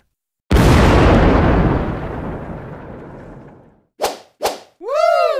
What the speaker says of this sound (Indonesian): Bahkan ledakan yang dihasilkan terlihat dahsyat.